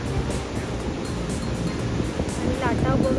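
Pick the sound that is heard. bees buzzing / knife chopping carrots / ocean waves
ocean waves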